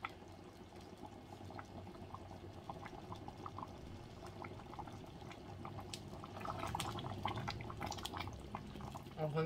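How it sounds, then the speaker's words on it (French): Chicken blanquette sauce made without wine simmers in a pot, giving a steady low bubbling and gurgling texture that builds slightly louder toward the end, with faint voices in the background. "On laisse un peu faire des bulles."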